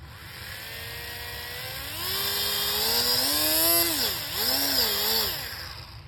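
An electric propeller motor on an RC Cessna model plane spins up and down with the throttle, a loud close whine that rises in pitch, dips and climbs again, with no talk over it.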